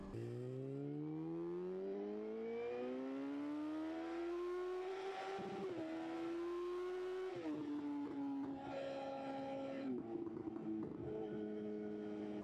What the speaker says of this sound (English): it's got the classic inline 4 sound, and really screams